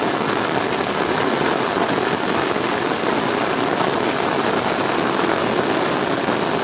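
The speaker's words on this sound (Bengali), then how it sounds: "দেখেন আমার ছাতার থেকে পানি পড়তেছে," Heavy rain pours onto an umbrella during a monsoon downpour in Comilla, Bangladesh, a loud, dense, unbroken drumming hiss that stays steady throughout.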